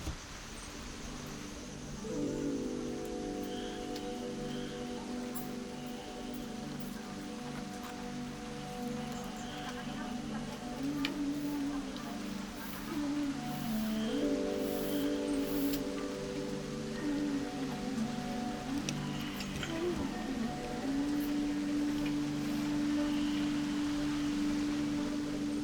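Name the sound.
rain falling while weaving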